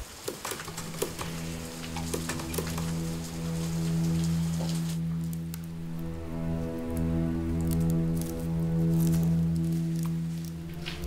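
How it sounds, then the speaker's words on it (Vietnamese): Heavy rain falls in a steady broadband hiss for the whole stretch, with low tonal sound droning underneath and no voices. "Trời mưa lớn thế này"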